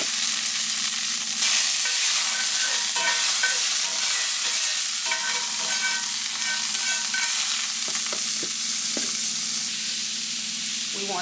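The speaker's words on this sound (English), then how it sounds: "our skillet is scalding hot, so we're gonna put some butter in here" Butter sizzles loudly and steadily in a scalding hot skillet, a close, constant frying hiss with faint stirring clicks.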